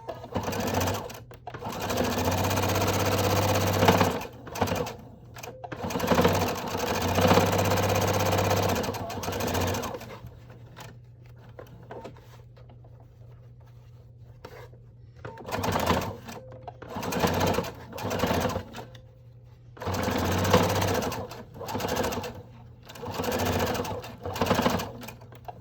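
A sewing machine stitches around the seams of a face mask, running forward and back to reinforce them, in several loud bursts of sustained humming separated by brief pauses and quieter stretches.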